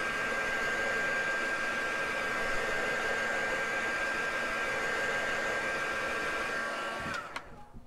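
A hair dryer blows in a steady, loud, even whoosh over a freshly painted craft piece, then cuts off abruptly near the end.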